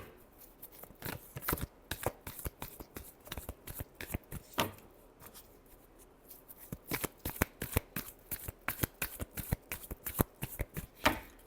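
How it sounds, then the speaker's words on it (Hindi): Tarot cards are shuffled by hand in repeated quick riffling bursts, close and crisp, with short pauses between rounds. "last shuffle"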